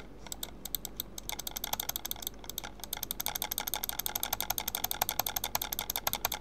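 Rapid, forceful clicking on a right-handed computer mouse in a banana clicker game, quick close clicks that build into a louder, denser run toward the end, with no voice.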